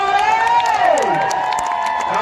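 A crowd at a village kabaddi match cheers and claps in a sustained, loud burst, with an announcer's voice or whistle-like tones riding over the noise.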